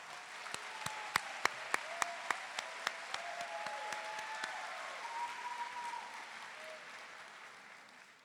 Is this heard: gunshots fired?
no